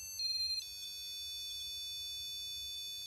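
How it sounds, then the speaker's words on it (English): An electronic alarm sounds in a cemetery, with piercing steady high tones that hold throughout, a louder beeping burst near the start, and a faint low rumble beneath. "That's like an alarm."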